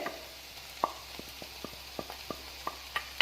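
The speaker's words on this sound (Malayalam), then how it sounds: "അപ്പോൾ ഒരു 1-2 സെക്കൻഡോളം നമുക്കിത് നന്നായിട്ടൊന്ന് വഴറ്റിയെടുക്കാം." Capsicum and coriander stirred in a hot pan as the topping for a khubz pizza, a faint steady sizzle broken by regular light taps and scrapes of a spoon against the pan, close by and with no talking.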